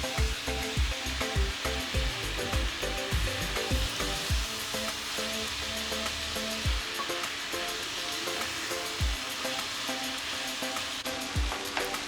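Washed rice sautéed in a pan for mataki pulav, giving a steady close sizzle with a run of quick scraping stirs in the first few seconds and a few more stirs later, with no talking.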